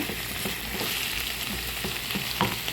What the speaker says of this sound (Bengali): এখন আমি এরকম ভাজা ভাজা করে নিয়েছি বরবটি এবং আলু ভাজিটা